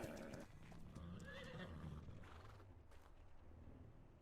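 A horse in the video game Ark whinnies and snorts amid hoof clops and a low ambient game rumble, fairly quiet with no talk.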